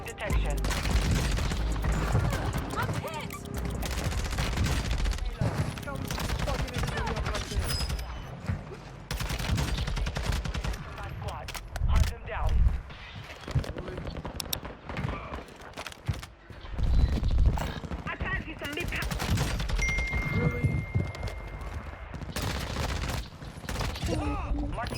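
Warzone 2 multiplayer gunfire rattles almost constantly through a busy match, with bursts and booms over a dense game mix and a voice talking underneath.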